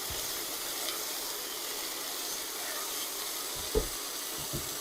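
Cauliflower mash and minced garlic sizzle in a pan with a steady, fairly quiet hiss, broken by one soft knock of a utensil near the end.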